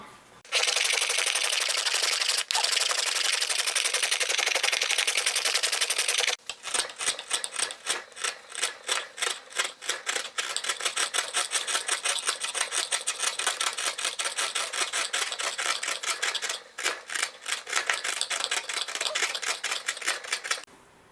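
Hand-tool carving on a violin, steady close scraping and paring strokes that run nearly continuously, with a busier stretch of quick repeated cuts after a short pause; no one speaks.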